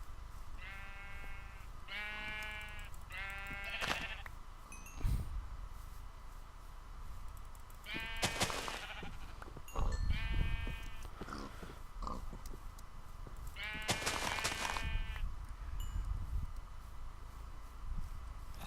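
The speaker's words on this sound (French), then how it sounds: "je vais retrouver mes moutons parce que j'en ai besoin" Sheep bleating in Minecraft: a series of repeated wavering bleats in short groups, clear and moderately loud over a low steady background, with a few knocks and thumps between them.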